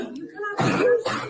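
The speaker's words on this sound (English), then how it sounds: "Did you hear the people coughing in the background?" People cough in the background of a classroom after a teen pepper-sprays a teacher, with short rough coughs and throat clearing mixed with a raised voice speaking over them.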